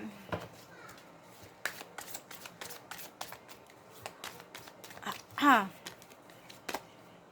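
Tarot cards being shuffled and drawn one at a time for a collective love reading, giving soft riffling and repeated sharp card snaps, with one louder burst of shuffling near the end, under quiet speech.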